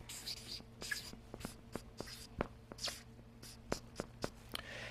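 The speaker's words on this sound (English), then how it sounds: "So what I do here is I write the word believe" A marker writes the word believe on a board in a run of short squeaky strokes and taps, close and fairly quiet, with faint breathy voice in the background.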